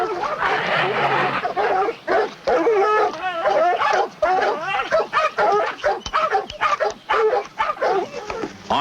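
Several hunting dogs bark and yip excitedly at close range beneath an animal treed by a research team, overlapping and continuous, with some whining mixed in and a voice speaking underneath.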